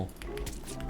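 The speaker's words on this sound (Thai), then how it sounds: "นี่เสียงคีย์บอร์ดนะ" Computer keyboard keys pressed while playing a game, giving a few soft, close taps over a steady low background hum.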